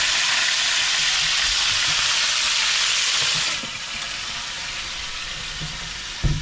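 Bacon frying in hot grease, a loud steady hiss and crackle close up that drops to a softer sizzle partway through, with small clinks near the end.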